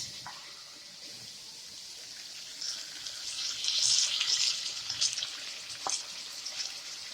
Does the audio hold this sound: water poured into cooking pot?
yes